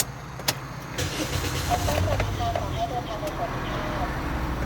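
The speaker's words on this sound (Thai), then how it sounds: "สตาร์ทรถหน่อย" A 2009 Toyota Yaris engine cranks and catches, then settles into a steady close idle, with a sharp click at the start and a faint voice over the running motor.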